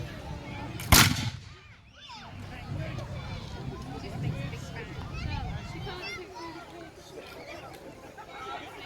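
A single sharp, loud musket shot from redcoat light infantry reenactors cracks out near the start, then the shot dies away and outdoor voices chatter in the background.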